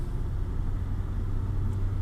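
A car climbs a steep forest road, its engine giving a low, steady rumble heard from inside the vehicle, close and constant with no speech.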